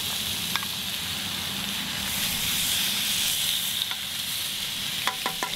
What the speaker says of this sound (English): In a good non-stick pan, we're gonna add in the chicken skin.